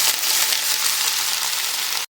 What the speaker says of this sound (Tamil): இப்போ நான் வந்து வெண்டைக்காவை போட்டு நல்லா வதக்கி எடுத்துக்கிறேன்